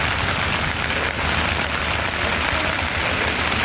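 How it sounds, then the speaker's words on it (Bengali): Heavy rain pouring onto a flooded highway, a dense, loud, unbroken roar of drops hitting water and road surface that stays steady from start to finish, with no voices. "যেহেতু প্রচণ্ড বৃষ্টি হচ্ছে তাই মানুষের চলাচলের অবস্থা খুবই খারাপ হয়ে গেছে"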